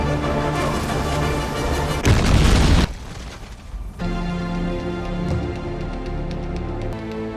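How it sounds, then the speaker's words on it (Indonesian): A loud, rumbling explosive boom bursts out for about a second over a dramatic music bed, which carries on after the blast fades. "Ketika sesaat lagi bom itu akan meledak"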